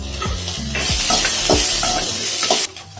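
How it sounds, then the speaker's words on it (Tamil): Capsicum, tomato and coconut sautéing in a pan for chutney, a loud steady sizzle with scraping stirs of a spatula at close range and no talk. "தேங்காயையும் கூட சேர்த்து வதக்கணும்."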